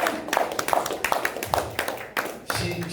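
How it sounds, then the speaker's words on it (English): Brief, fairly quiet clapping from an audience at a recovery testimonial music event, scattered individual claps rather than a dense ovation, with some background noise. "big round of applause for Sapphira."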